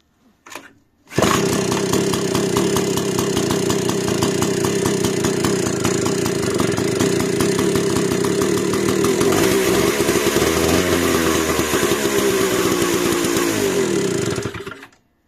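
An MPM2 brush cutter, converted to electronic ignition, is pull-started and roars at a loud, steady two-stroke buzz near by, then shifts pitch and cuts off at the end; no one talks.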